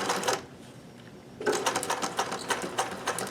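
A sewing machine stitches along a hem in quick rhythmic bursts of needle chatter, pauses briefly, then runs again, close and clear.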